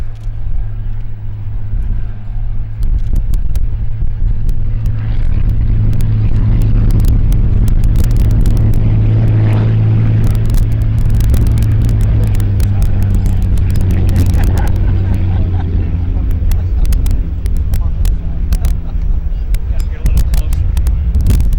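A loud, continuous engine roar from the U77 Miss Wahoo hydroplane racing on Lake Washington, Seattle, rough and droning with wind buffeting and splashy noise throughout.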